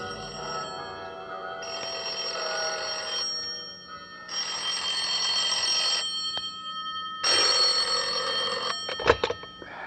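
Bells ringing from a Buddhist temple in a radio drama sound effect, heard as bursts of bright, shrill metallic ringing separated by short pauses, ending in a clattering jolt.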